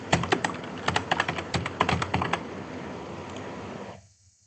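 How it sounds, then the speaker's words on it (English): A phone number being typed on a computer keyboard: a quick, irregular burst of close key clicks lasting a couple of seconds, then quiet room tone, with no voices. "I cannot share the screen because I'll be typing my number."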